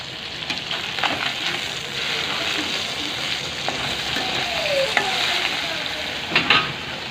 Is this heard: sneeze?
no